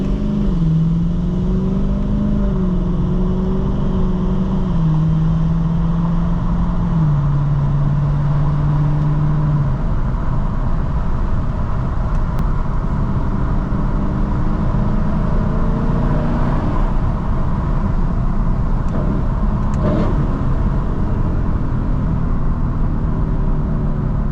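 A Lexus LC 500 fitted with a Varis aero kit cruises along, its engine droning steadily at first with a rising and shifting tone, then settling into a loud, even rumble of road and cabin noise, without speech.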